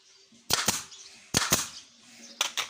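A nail gun fires into the frame of a cabinet sliding door that holds an acrylic panel. Three pairs of sharp, close snapping shots come in quick doubles with short pauses between them.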